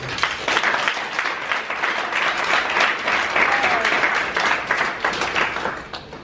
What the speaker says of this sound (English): So can you give Vanessa a massive round of applause, please?